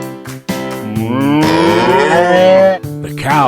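Cows on a farm moo loudly and close by, several overlapping drawn-out calls, one rising long moo in the middle, heard clearly without talk.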